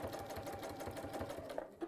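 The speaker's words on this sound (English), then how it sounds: "I'm just top stitching now, just to hold everything in place, hold that seam in place" A domestic sewing machine runs a steady top stitch along a fabric seam, its rapid needle rhythm close and continuous before easing off near the end, with no talk.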